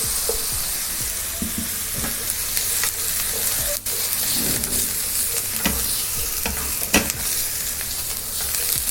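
Capsicum sizzles in a hot pan for a warm quinoa salad, a loud, steady frying hiss close by with scraping stirring strokes throughout.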